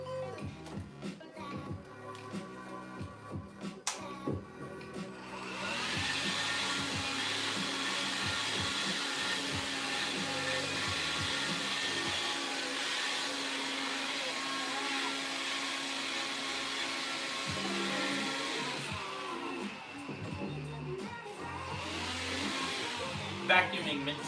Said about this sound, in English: Vacuuming midstream.